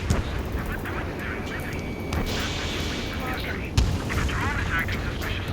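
Gunfire in the combat flight game Ace Combat 7, mixed into a busy wash of jet and battle noise, with one sharp loud burst partway through while voices talk over it.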